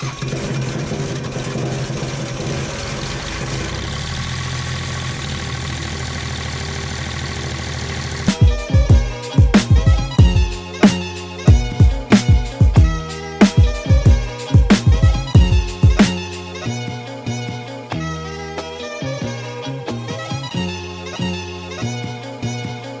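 An engine idles steadily, then shifts into a rhythmic, chugging pulse of loud repeated thumps, settling back to a smoother running rumble toward the end.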